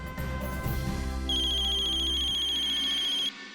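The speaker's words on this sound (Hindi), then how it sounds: "साहब का फोन।" A telephone ringtone rings loudly and steadily in an indoor domestic setting, a repeating bright electronic tone pattern sounding alone for a few seconds before cutting off abruptly.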